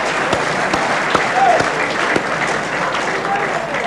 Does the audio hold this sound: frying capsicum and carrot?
no